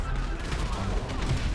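Dense, rapid bursts of gunfire in GTA V, near and loud, crackling continuously, with a voice talking over it.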